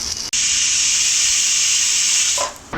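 Idli fries crisply in a hot pan with a loud, steady sizzling hiss that holds for about two seconds, then tapers off at the end.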